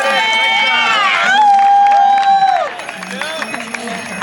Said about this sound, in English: I get emotional when people cheer for other people